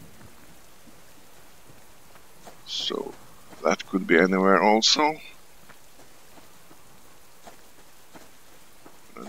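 Light rain patters steadily in the survival game Subsistence, a faint, even hiss under a man's brief spoken remark.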